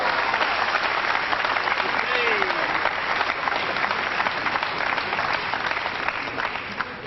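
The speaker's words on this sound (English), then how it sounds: "Crowd here in Cardiff giving Steve Davis every form of encouragement" A crowd at a 9-ball pool championship match in Cardiff applauds warmly and continuously, a thick, close clapping that holds steady before easing off slightly at the end.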